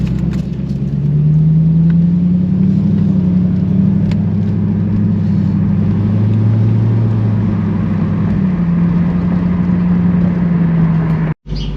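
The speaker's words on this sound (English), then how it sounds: "I haven't driven this car in a long time, so bear with me if I drive a little slow." A Lexus SC430 creeps slowly through a residential neighborhood, its engine giving a steady low rumble and drone that rises and falls gently with throttle for nearly twelve seconds, close and loud with no talking.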